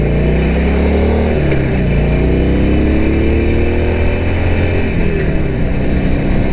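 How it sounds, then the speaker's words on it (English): A Harley-Davidson Forty-Eight Sportster motorcycle engine runs loud and close, a steady deep rumble with rising and falling pitch as it revs, continuous throughout with no talking. "It sounds like a motorcycle should sound."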